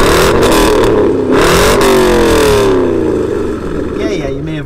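A Jaguar XK8 V8 sports car engine revs loudly through an aftermarket exhaust with a raspy, rumbling tone, the pitch sweeping up and down over several seconds, with voices talking underneath.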